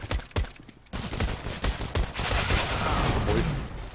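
Rapid bursts of gunfire in the video game CS:GO crack out repeatedly over four seconds, sharp and loud, with a brief lull near the start before dense overlapping shots resume.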